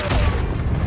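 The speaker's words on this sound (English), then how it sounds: "the surrounding audio was mainly artillery" Artillery booms and gunfire in the WWI shooter Isonzo, a dense, continuous battlefield din with one sharp blast near the start over a constant low rumble.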